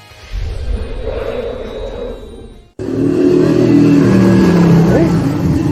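A motorcycle engine approaches on a village road at dusk, its steady rumble suddenly growing louder and closer partway through, with a continuous droning roar and nothing else heard over it.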